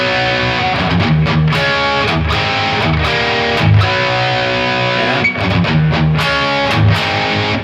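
Distorted electric guitar plays a palm-muted riff, chugging rhythmically for four bars, loud and upfront with no talking.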